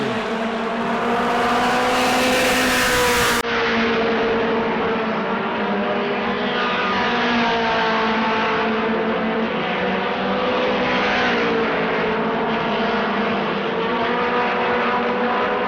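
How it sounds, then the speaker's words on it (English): Mod Mini race cars circle a track at New Smyrna, their engines droning loud and continuous with shifting pitch as the cars pass, and no voices over them. "Sean Bass picking another lap off, 11 laps to go"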